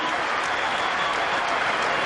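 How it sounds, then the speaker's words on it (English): A cricket crowd in Sharjah gives a standing ovation during a 1999 Pakistan versus India one-day international, dense, continuous applause filling the stadium with a commentator's voice talking over it. "getting a standing ovation from the crowd here in Sharjah"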